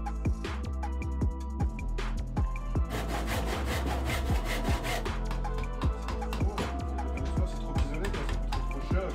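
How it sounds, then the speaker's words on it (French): Handsaw cutting diagonally through a wooden side board while building a solar dryer, with steady rhythmic back-and-forth rasping strokes, loud and close, speeding up in the middle, with occasional voices faintly in the background. "l'une des deux latérales, on va la couper en diagonale, et donc ça va en faire deux"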